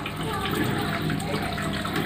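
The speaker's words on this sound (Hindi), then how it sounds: "यह ऑटोमेटिक पानी लेना शुरू कर दिया इसने।" A Whirlpool top-load fully automatic washing machine fills with water, a steady rushing gush that runs throughout at moderate level.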